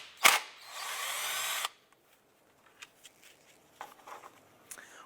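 A power ratchet or driver spins a 10mm bolt out with a socket and extension on a 2001-2005 Honda Civic, a close whirring burst of about a second followed by faint clinks and handling noises.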